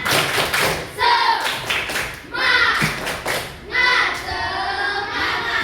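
Schoolchildren in an elementary computational thinking lesson do a rhythmic spirit clap in short bursts of patterned claps and thumps, with the class chanting along between the beats.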